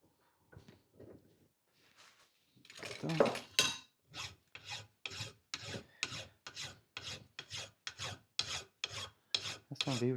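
Hand file rasping across a metal part, a quiet handling start, then a dense run of regular back-and-forth strokes, each a short gritty scrape, close and clear with no talk.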